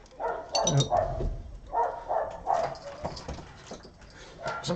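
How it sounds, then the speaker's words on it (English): A dog barks at children outdoors, sounding off in a series of sharp, fairly close barks and yips in uneven bursts, with a few whimpering notes between them. "The wonderful ambient sounds of a dog barking at children."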